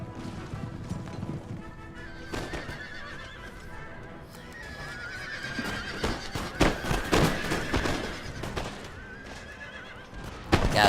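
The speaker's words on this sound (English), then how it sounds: "now they're going to send some of their cavalry forward to engage with the Austrian cavalry" Cavalry horses charge in a Total War: Empire battle, with loud whinnies, drumming hoofbeats and clashing impacts building into a dense, chaotic melee toward the end.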